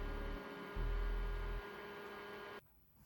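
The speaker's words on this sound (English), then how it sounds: "I'm gonna use a fan and dry down the product" A small fan runs with a steady hum close by while it dries makeup product. There is a brief louder surge in the middle, and the sound cuts off near the end, leaving a low residual hum.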